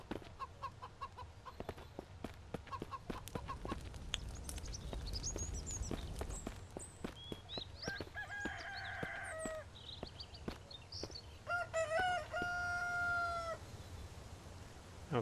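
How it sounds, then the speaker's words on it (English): A chicken crows and clucks in the survival game Mist Survival, with repeated harmonic crowing calls in the second half over a busy, crackling outdoor backdrop of clicks and rustles; no talking. "He's going to give away our position if he's crowing like that."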